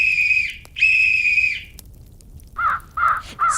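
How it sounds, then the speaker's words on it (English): A silver whistle shrills twice, two long, bright, steady blasts close by, followed by a few harsh crow caws. "she blew her silver whistle twice"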